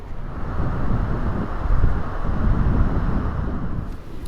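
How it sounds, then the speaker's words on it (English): Strong wind buffeting outdoors at Trinidad on the Northern California coast, a continuous low roaring rumble with gusts swelling and easing, no voices. "I did not realize it was going to be this windy"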